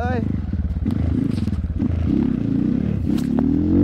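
A trail motorcycle revs hard while climbing a steep, muddy hill on an off-road adventure trail in West Bandung, its engine loud and close with a rising pitch toward the end, mixed with clattering and scraping.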